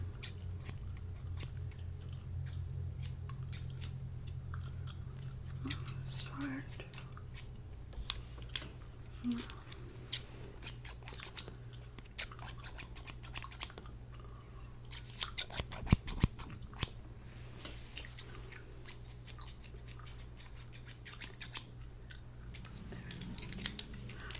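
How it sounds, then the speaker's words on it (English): Repeated crisp metallic snips, irregular and close, over a steady low hum, with scattered sharp clicks throughout. "Okay, you ready? Start snipping."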